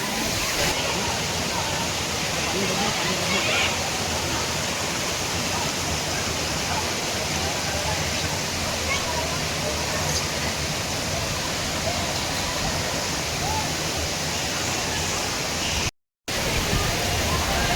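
A steady, roaring waterfall at Gaumukh, Songadh, fills the air with continuous broadband rushing water, loud and unbroken apart from a momentary dropout near the end.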